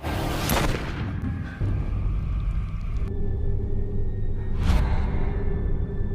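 A gunshot from a horror film lands as a loud, booming blast with a sharp crack and rumbling tail, then a second heavy whooshing boom follows later amid a dense, rumbling soundtrack.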